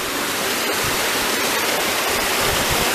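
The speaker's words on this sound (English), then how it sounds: "I can literally hear it, the water falling." A waterfall roars steadily at close range, a loud, dense wash of falling water that fills the whole moment without a break.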